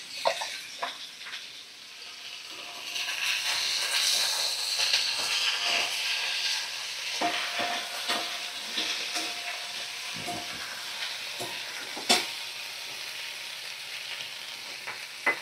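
Fish seasoned with salt and turmeric fries in hot oil, a sustained close sizzle with hiss and scattered pops and crackles, plus occasional clicks of stirring across the whole stretch.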